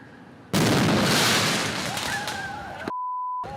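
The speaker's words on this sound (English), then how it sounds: "A mortar explosion in Dinkytown on the 4th of July." A mortar firework explodes in Dinkytown, Minneapolis, on the 4th of July, a loud close blast with a long rumbling tail, followed by a steady electronic beep.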